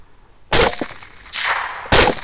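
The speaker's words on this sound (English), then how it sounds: "I shoot it again" Rifle shots fired at a hog during a nighttime thermal hunt in Bosque County, Texas: three loud sharp reports, each followed by a short ringing decay, with no talking.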